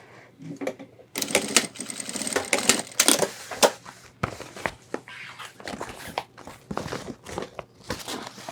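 Sewing machine stitching a loop onto the bottom of an ultralight backpack, running in quick bursts of rapid mechanical clatter with short pauses and clicks between runs, close and fairly loud.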